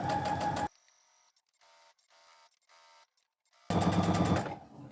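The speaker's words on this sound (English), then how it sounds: "I'm just using the edge of my foot as a guide, and I don't sew over my pins" A home sewing machine runs in two loud bursts, one at the start and one at the end, stitching along fabric pinned for an apron, with fainter short whirring runs in between.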